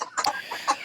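Native deshi chickens cluck nearby in a few short, clear bursts, the clucks spaced unevenly across less than a second.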